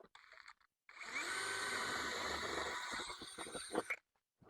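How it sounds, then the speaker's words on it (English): A power drill bores a rivet hole in a swimming pool skimmer, a single close, loud whine of about three seconds that strains and judders near the end, with brief handling clicks before and after. "Drill that hole, pop the rivet in the hole."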